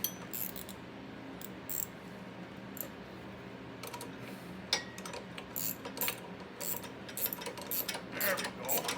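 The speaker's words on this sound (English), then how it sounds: "Nut must be wore out a little bit because it doesn't really want to start ratcheting." Ratchet wrench turning a slightly worn nut while reassembling the drive train of a 33-inch Snapper mower. Light, irregular clicks sit close by over steady background noise.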